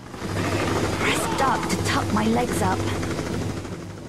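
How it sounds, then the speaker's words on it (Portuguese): A police helicopter in the video game Tomb Raider: The Angel of Darkness, heard as a steady rotor chop and engine drone running throughout, loud and close, mixed with other game sounds. "E o helicóptero da polícia vai aparecer e a gente vai ter que lidar com ele até o fim da fase"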